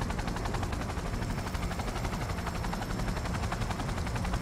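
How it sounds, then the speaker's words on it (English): A helicopter in Cyberpunk 2077 descending, its dense rotor chop steady and fairly loud throughout with no talk, a continuous rhythmic thrum. "Wait for the helicopter to descend."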